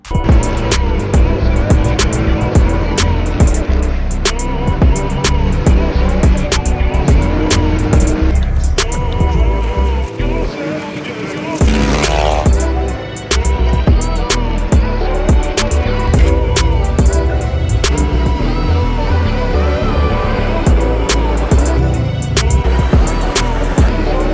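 A Stage 3 Yamaha Raptor 700 quad drives across desert sand near Dubai, its engine roaring loud and close with rapid revving, gear changes and sharp clicks, dipping briefly before surging again.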